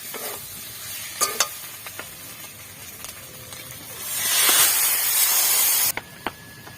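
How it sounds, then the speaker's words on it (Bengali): Water poured into a pan of spice paste being fried for a Bengali vegetarian data chorchori, bursting into a loud, sustained hiss and sizzle for about two seconds, with stirring and utensil clinks before and after. "এখন জল দিয়ে দেব।"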